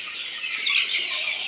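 Brahma chickens cluck close by in a small farm setting, a brief soft run of clucking calls heard alone with no voices.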